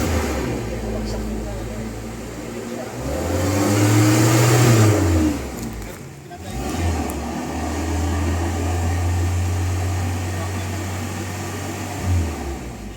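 Toyota Revo engine idling unevenly with a dirty throttle body, a loud steady mechanical drone that surges and dips in a few swells, with someone talking over it.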